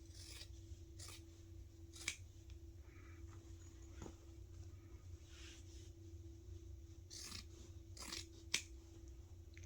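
Scissors trim the fabric corners of a clutch bag lining in a few quiet, separate snips close by, over a low steady room hum.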